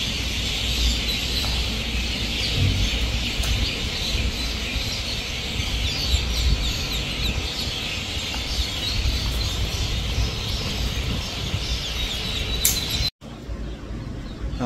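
Newly hatched ducklings of several breeds at a duck hatchery peep and chirp continuously in a dense chorus, the cheeping filling the space until it cuts off abruptly near the end.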